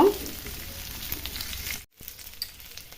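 Onion and capsicum frying in a pan on a low flame give a soft, steady sizzle that cuts off briefly near the end before quieter crackling returns.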